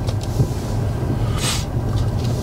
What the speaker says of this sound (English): Have a listen to that engine. Are we idle?